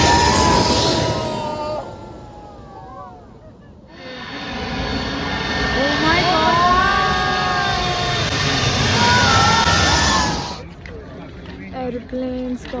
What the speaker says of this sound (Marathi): कारण प्लेन असं टेक ऑफ करतं